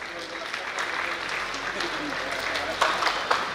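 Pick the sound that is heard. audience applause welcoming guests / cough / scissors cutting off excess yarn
audience applause welcoming guests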